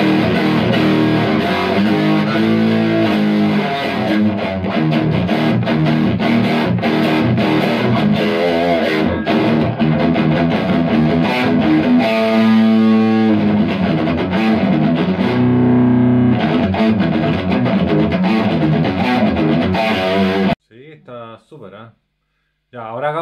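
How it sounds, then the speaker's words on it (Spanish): Electric guitar played through a Boss MD-2 Mega Distortion pedal set to heavy distortion with little gain boost, loud thick riffs and chords for about twenty seconds before cutting off into brief quieter strums. "Ahora probemos dándole solamente harta distorsión y poco gain boost."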